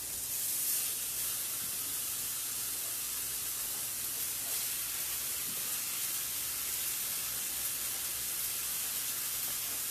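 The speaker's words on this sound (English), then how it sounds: "You can hear that sear. That's what we want, that nice sizzle." A steady, loud sizzle of a pork chop searing in a hot cast iron pan, continuous hissing and crackling with no pauses.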